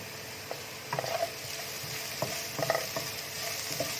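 Spices with salt and crushed red chilli fry in a pan for chicken manchurian, a steady soft sizzle broken by a few clinks and scrapes of a spoon stirring against the pan.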